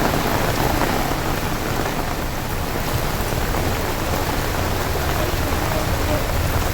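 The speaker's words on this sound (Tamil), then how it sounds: "தமிழகத்தில் இன்றும் பல்வேறு இடங்களில் வெளுத்து வாங்கிய மழை." Heavy rain pouring down during a widespread downpour in Tamil Nadu, a dense, steady hiss and roar with no breaks, close and loud throughout, with no voices.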